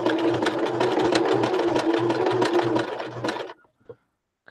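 A sewing machine runs steadily up close, stitching over fabric for a boho bag with a fast rhythmic hum for about three seconds, then stops abruptly, followed by a couple of faint clicks.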